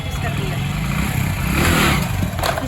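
A motorcycle engine revs steadily and strongly for wheelie practice, with a rough, throaty low drone that swells in the middle. Talk is heard over the engine.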